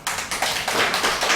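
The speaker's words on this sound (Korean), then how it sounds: "박수 쳐야 되지 않아요?" Congregation clapping together at an evangelistic revival service in a Korean church, a dense burst of many hands with a rhythmic, near, fairly loud pulse, no voices over it.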